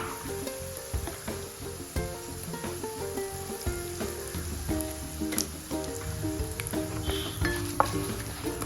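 Shallow frying in oil with asafoetida for masala dosa filling, a steady crackling sizzle up close, dotted with pops and metallic utensil clinks, with some tonal background sound running underneath and no speech.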